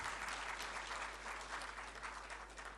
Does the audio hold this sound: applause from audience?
yes